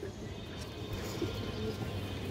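Collection pigeons, racers and high flyers, coo softly nearby in a low, murmuring rumble, several overlapping calls under faint background noise.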